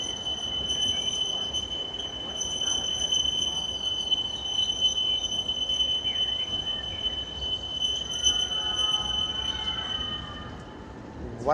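Mining train on the Big Thunder Mountain ride at Disneyland, its wheels screeching on the track in a sustained high-pitched squeal over steady rumbling, with a brighter burst of squealing near the end.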